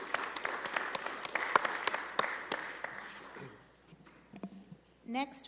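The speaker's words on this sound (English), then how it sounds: "Round of applause, please." A city council meeting audience gives a round of applause, with scattered claps that fade away after a few seconds before a voice begins speaking.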